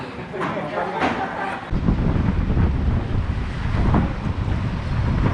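Water of the Çanakkale strait splashes and laps at the shore under gusting wind buffeting the microphone, with a continuous rushing roar. A voice speaks over it.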